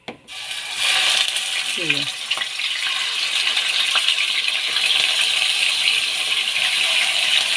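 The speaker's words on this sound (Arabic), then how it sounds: "اللحمه بتاعتي دي انا هشوحها شويه لحد ما تاخد لون" Meat drops into a hot pan and sears with a loud, steady sizzle and crackle that starts suddenly and continues close up, with a faint brief voice early on.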